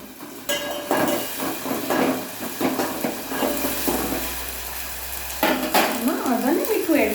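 Green chillies sauté in a pan for a mixed vegetable curry, giving a steady sizzle with repeated metal utensil scrapes and knocks. Louder clatter comes near the end.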